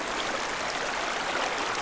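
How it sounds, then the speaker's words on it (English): The Snowy River in Kosciuszko National Park rushes steadily past at close range, a continuous broadband wash of flowing water heard from midstream without any voices. "I'm standing in the middle of the Snowy River"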